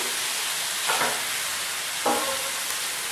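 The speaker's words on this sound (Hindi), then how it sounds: "इस तरह से लगातार चलाते हुए ये हमें सब्जी तैयार करनी है।" Modak filling being stirred in a pan on the stove, with two short scraping strokes over a steady soft sizzle, close and fairly quiet, no voices.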